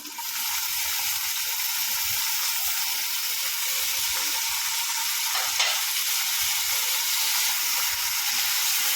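Steady, dense sizzling of tomatoes and dried Kashmiri chillies frying in hot oil, continuous and close, with a faint utensil knock midway and no talking.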